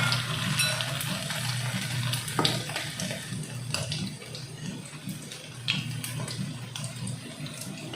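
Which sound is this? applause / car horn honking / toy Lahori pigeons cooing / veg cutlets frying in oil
veg cutlets frying in oil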